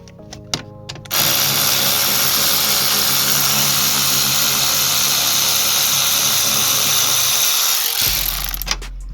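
Power tool, likely an impact driver, undoing an E14 Torx bolt during restoration work on a Chrysler Grand Voyager; a steady loud whir runs for about seven seconds after a few short clicks, then stops.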